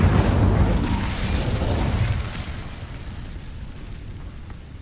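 A fiery blast from the Incendio fire spell in the video game Hogwarts Legacy, a loud burst that swells at once and then rumbles and crackles as it slowly fades.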